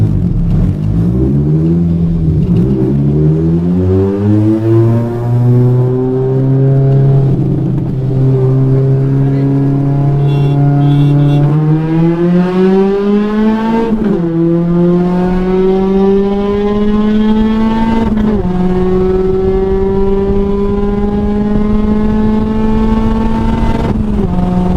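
A small car with aftermarket cams accelerates hard through second gear in a roll race, its engine note climbing steadily in loud, continuous rising sweeps with brief dips at each throttle change.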